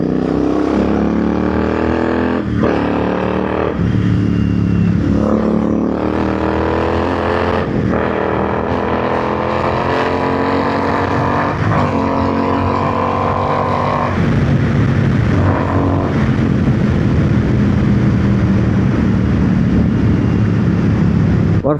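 Continental GT 650 motorcycle with a custom performance air filter kit roaring along a flyover at high speed, engine pitch rising through gears with repeated shifts and sustained wind rush.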